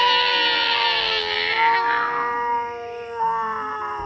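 A video game character mimics a cat's meow with a long, strained, wavering vocal cry that bends in pitch, loud and continuous for several seconds.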